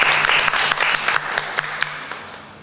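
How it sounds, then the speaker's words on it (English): A group of children claps their hands together in a short burst that thins into a few scattered claps and fades out. "let's clap our hands together"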